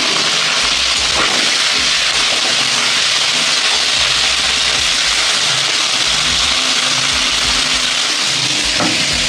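Onion, garlic and green chili frying with cumin in hot oil, giving a loud, steady sizzling hiss that runs throughout with low rumbling underneath and no talking.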